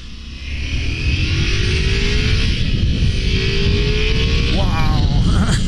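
A 2023 Ducati Multistrada V4 S motorcycle under way, its engine droning steadily with wind rush throughout and a rising rev near the end, close and loud.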